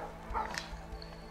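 Dogs bark and yip in the video game A Way Out, a couple of short close barks in quick succession over a steady low game background hum.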